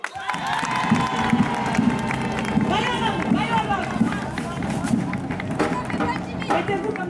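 Wedding guests clap and cheer steadily throughout, lively and close, with voices calling out over the applause.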